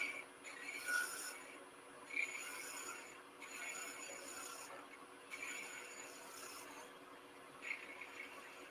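A woodturning tool's bevel glides along spinning wood on a lathe, making a soft, continuous rubbing hiss that swells in faint periodic passes, quiet and steady with no voices.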